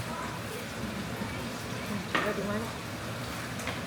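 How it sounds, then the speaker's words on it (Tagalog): Cabbage sautés in a hot pan with a steady close sizzle and crackle, broken by a few clacks of a stirring utensil, while a person talks quietly over it. "Magisa tayo ng ginisang cabbage."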